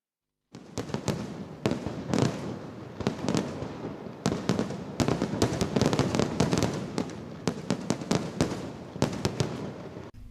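Thrissur Pooram's sample fireworks display at Thekkinkadu, lit first by Paramekkavu, fires off a rapid, loud run of sharp cracks and booming bursts that crowd together in rolling clusters.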